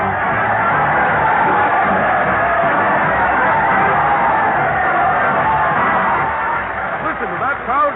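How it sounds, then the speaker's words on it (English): A live studio audience at a radio show cheers and shouts as the host leads his parade of stars onstage, giving a dense, loud wash of crowd noise that tapers slightly near the end. "Listen to that crowd cheer as Fred Allen leads his parade of stars to the old Town Hall."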